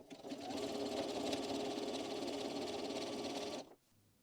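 A domestic sewing machine runs steadily, sewing a triple zigzag stitch along elastic on jersey fabric, a fast even whir for several seconds that cuts off abruptly and leaves near silence.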